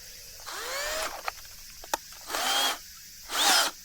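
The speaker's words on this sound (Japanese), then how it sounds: "これアースオーガっていうね、まあ、要は、地面を掘るためのドリルです。" A large earth auger, a ground-digging drill, revs up in three separate bursts, each a rising motor whine that holds briefly and then cuts off, with a couple of sharp clicks between them and no talking.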